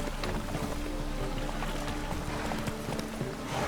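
Geralt's horse Roach trots in The Witcher 3, with steady clip-clop hoofbeats running throughout beneath a dense wash of in-game ambience; no one speaks.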